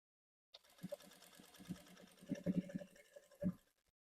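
A sewing machine stitching cloth in short slow bursts, rhythmic mechanical whirring and clatter that starts and stops several times, close and fairly quiet, with no talking.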